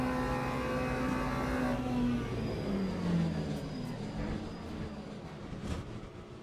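A race car engine in Le Mans Ultimate revs hard and changes pitch as the gears shift, holding a continuous loud drone with tonal whine that drops and climbs, followed by a slight fade near the end.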